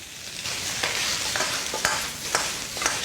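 Beef ribs go into a wok with caramelized rock sugar and spices, stirred over steady sizzling with repeated scraping strokes at an uneven rhythm, close and fairly loud.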